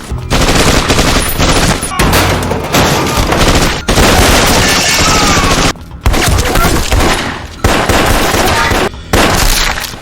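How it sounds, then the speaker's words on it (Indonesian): A captured rifle fires in an action film's gang shootout, loud rapid automatic bursts that run for seconds at a time, broken by brief silent gaps. "Ned menyerbu dengan senapan yang direbutnya."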